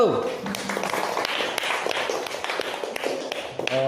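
Classroom applause for a student group after a presentation, a steady patter of clapping from a small group of students, with a voice speaking over the start.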